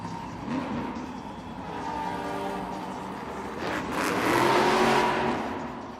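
A monster truck named Crazy Train revs its engine at a Monster Jam event in a Newark arena, a loud sustained roar that climbs toward the end amid the large indoor space.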